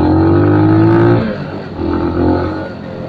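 A Benelli TNT 250 single-cylinder motorcycle engine revs loudly and close with a steady low drone, then drops off and rises again in a second, weaker surge.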